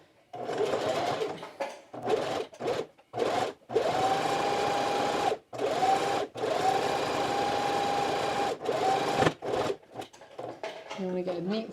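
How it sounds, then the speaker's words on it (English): A home sewing machine stitches through a quilted jacket in long steady whirring runs broken by brief pauses, with a slower stretch near the end and a voice talking at times. "now I'm going to sew"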